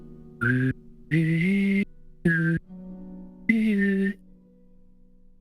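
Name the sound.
voice imitating humming whistle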